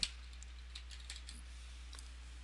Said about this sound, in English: Clicks in search bar and types lock set.